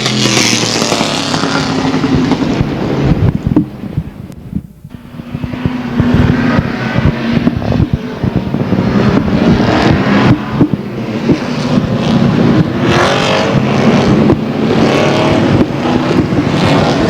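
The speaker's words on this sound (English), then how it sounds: "Late model sportsmen rolling out for their main event of the evening" Late model sportsman race cars roll out at a speedway. The engines are loud and growl continuously, rising and falling as the cars pass close by, and one brief dip in the middle is followed by more revving.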